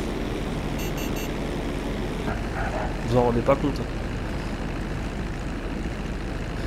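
A propeller-driven Bombardier airplane in the video game GTA Online drones steadily throughout at a low, even level, with a voice speaking briefly in French over the engine noise.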